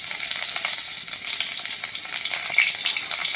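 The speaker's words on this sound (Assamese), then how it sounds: "এতিয়া তেল গৰম হৈছে, পিঁয়াজ দিম।" Onions hit hot oil and fry with a dense, steady sizzle, close and fairly loud, with faint stirring scrapes and no talking.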